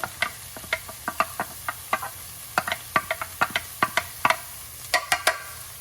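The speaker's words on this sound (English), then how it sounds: "Chopped carrots are going in." Chopped carrots dropped into a pan of frying onions for a turkey bolognese, with quick sharp clicks and scrapes of a utensil against the pan over a low steady sizzle, close up and without talking.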